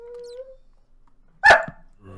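A dog named Scrappy gives a short high whimper, then after a pause one sharp close bark, followed by faint whining.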